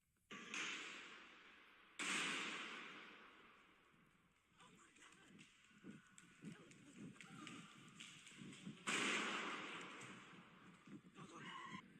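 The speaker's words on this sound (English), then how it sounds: "you can hear the gunshots happening" Gunshots at a Dearborn, Michigan mall during an active shooter incident: three loud, sharp blasts spaced several seconds apart, each trailing off in a long echoing decay, with faint voices and commotion in between.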